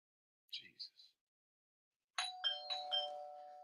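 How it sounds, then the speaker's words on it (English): A doorbell chimes twice: a brief faint ding-dong, a pause, then a louder, closer chime whose tones ring on and fade slowly. "That doorbell is terrible."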